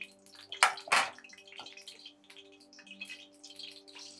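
Chicken pieces are dropped into hot oil in a pan, setting off sharp splashing crackles followed by lighter scattered sizzling pops, heard close up without talk.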